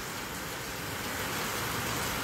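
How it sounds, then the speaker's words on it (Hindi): Heavy rain pours steadily in Jammu, a dense, even hiss of downpour that holds at a constant level for the whole stretch with no voices over it. "यहाँ पर तेज़ बारिश हो रही है"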